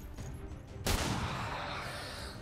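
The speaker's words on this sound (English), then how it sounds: "Take a pistol shot" A single pistol shot fired in XCOM 2 cracks out sharply over a low game rumble, then decays into a long echoing tail.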